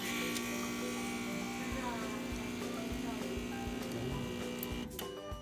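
A Briel two-group espresso machine, model DEG229ET3, powers on with a steady electric hum and buzz, a few faint ticks over it, before it cuts out near the end.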